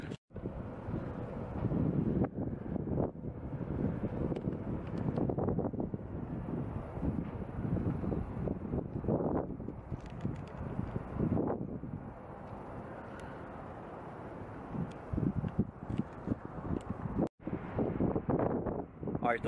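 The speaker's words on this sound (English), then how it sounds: "the wind's blowing super hard" Strong wind gusts across a downtown rooftop, buffeting the microphone in a loud, continuous rumbling roar that rises and falls throughout, with a brief sharp knock near the end.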